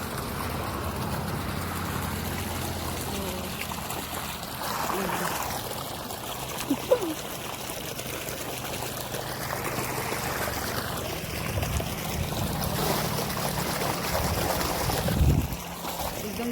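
Irrigation water flows steadily along an open channel in a grape vineyard during final-stage watering, a soft continuous trickle and gurgle with occasional splashes, while people talk over it.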